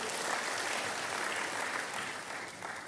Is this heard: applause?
yes